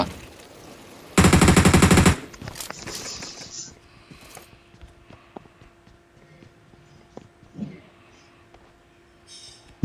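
A rapid burst of automatic gunfire from a UMP submachine gun in a video game, loud and dense for about a second, followed by scattered clicks, thuds and shuffling sounds.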